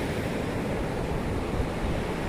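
Waves break on a beach under steady wind at the shore, a dense continuous rush of surf with wind buffeting the microphone, loud and unbroken.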